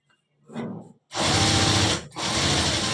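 A sewing machine stitching underwear runs in a brief burst, pauses, then whirs loudly and steadily up close, with a short gap before the motor resumes its rapid, buzzing rattle.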